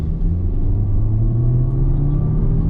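A Honda HR-V Touring engine rumbles and rises steadily as it accelerates in sport mode, heard from inside with a deep, continuous drone.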